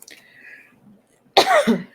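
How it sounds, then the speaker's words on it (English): A single hard, forceful cough bursts out close by after a near-silent pause, preceded by faint breathy sounds. "I had to do like a hard cough"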